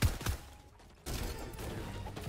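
Gunfire in an online squad shooter game, a couple of sharp shots at the start followed by a steady roar of game ambience and distant rattling fire, with no talk.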